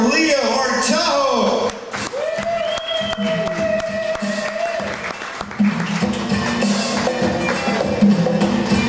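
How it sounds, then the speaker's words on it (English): Stand-up comedy night audience at McSalty's in Oklahoma City clapping and cheering for a comedian, a dense wash of applause with a voice talking over it throughout. "Everyone, please give a big round of applause for Leo Artajo."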